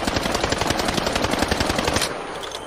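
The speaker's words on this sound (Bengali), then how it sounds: "হঠাৎ করেই পেছন থেকে গুলির শব্দ।" Rapid automatic gunfire bursts loud and close in a spy thriller action scene, a dense rattling volley of shots that cuts off near the end, leaving a quieter tail.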